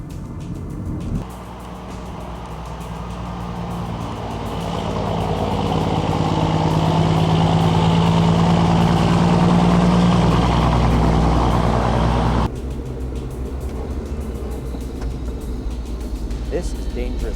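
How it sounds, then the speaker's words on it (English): A heavy truck engine rumbles and swells louder over several seconds as it travels a narrow, winding road toward a landfill, then drops back to a steady lower drone. "To reach the dump, the trucks must navigate narrow, winding roads"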